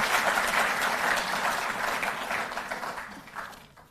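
Loud audience applause at a government ceremony, a sustained crowd of many hands clapping together that gradually fades toward the close.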